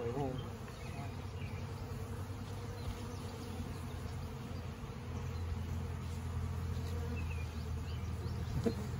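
Honey bees buzz around the entrance of a newly moved hive, a dense, steady hum of many wings close by, with a few individual bees passing near.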